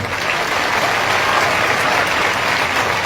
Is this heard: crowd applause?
yes